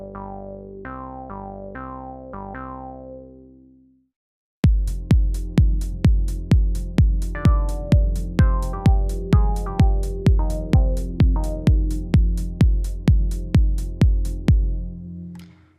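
Synthesizer lead from a 101-style monosynth plugin: a few sustained tones at first, then after a short pause a fast, steady run of punchy repeated plucked notes with sharp attacks, loud and alone.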